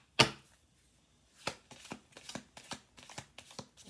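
Playing cards shuffled by hand, a sharp riffle burst up close followed after a pause by a run of quick, soft riffling bursts, alone with no talk.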